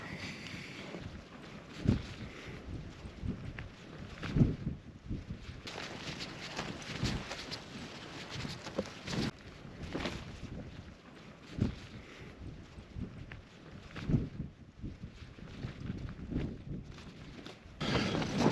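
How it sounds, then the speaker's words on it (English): Wind on an exposed fell top, blowing steadily across the microphone with gusty buffeting and rumble that rises and falls throughout, with no other sound. "That wind's easing up."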